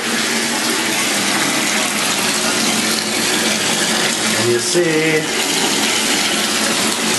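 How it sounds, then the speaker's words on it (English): Shower water running in a bathroom in Ireland, a loud steady hiss of spray, with someone talking briefly over it and a short clunk partway through. "So we're going to go ahead and check out the shower here."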